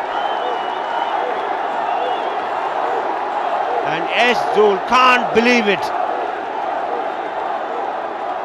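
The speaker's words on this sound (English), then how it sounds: "The crowd is obviously roaring." A large cricket crowd at a Ranji Trophy match between Delhi and Railways, a dense, continuous roar spread throughout, with a commentator's voice speaking over it midway.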